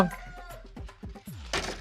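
Chickens clucking at a chicken coop, a few short close clucks and squawks in quick succession, with a brief burst of noise near the end.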